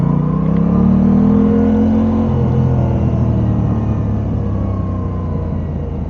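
A Kawasaki ZX4 motorcycle fitted with a full Van Diemen titanium exhaust revs loud and close, its deep rumble rising then settling into a steady drone while riding.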